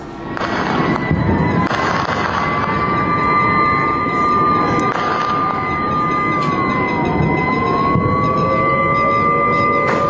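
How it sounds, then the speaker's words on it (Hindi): Several sirens wail continuously, their tones rising and falling and overlapping, loud and sustained throughout. "तो लगातार ये सायरन्स की आवाज आप सुन रहे हैं"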